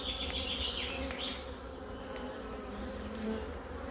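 Honeybees at an opened beehive buzz in a dense, continuous drone, with individual bees whirring close by in the first moments.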